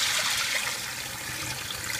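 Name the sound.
tap water running while rinsing short grain rice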